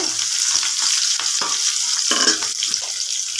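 Steady, loud sizzling of chopped onions and green chillies frying in hot oil, with occasional clinks and scrapes of stirring throughout.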